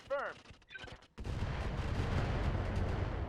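A volley of LRM missiles fired by a Trebuchet mech in the RogueTech BattleTech mod: brief tonal chirps and clicks, then a sudden loud, dense rumbling barrage of launches and impacts that roars on steadily.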